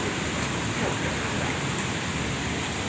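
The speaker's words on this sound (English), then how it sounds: "the rains had come down again on our third night here in Malaysia" Steady rain falling at night in Kuala Lumpur, Malaysia, a dense even hiss of drops on surfaces without pause, moderately loud and unbroken by voices.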